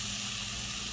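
Curry goat meat sizzles and hisses steadily in a pot, a constant close frying noise with no pauses or voices.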